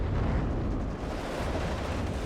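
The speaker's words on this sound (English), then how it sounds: "just a lot of shooting going on over here" Continuous rumbling explosions and massed gunfire in the WARNO war strategy game form a dense, loud wall of battle noise with no talk.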